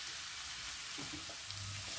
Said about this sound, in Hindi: चमचा मुस्तकिल चलाते रहना है ताकि पत्ते हर जगह से फ्राई हो जाएं